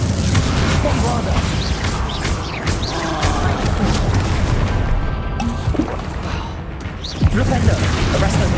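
Loud, crashing explosions from the Bombarda blasting spell in the Hogwarts Legacy video game pound through a dense, continuous din of battle, with voices shouting amid the chaos.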